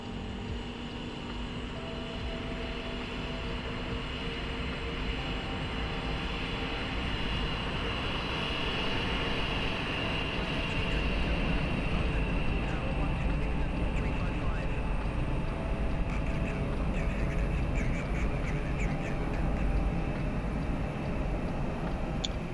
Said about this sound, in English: here the APU starting to spool up now.